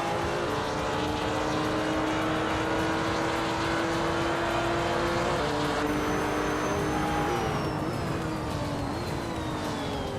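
Video game race cars battle for position in an online race, engines droning steadily with rising and falling pitch as cars shift and overtake, a continuous loud engine roar throughout.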